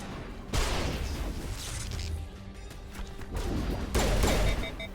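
Grenade blasts in the Mass Effect video game land as loud, close booming crashes, one near the start and another toward the end, with rumbling debris and noisy combat filling the gap between them.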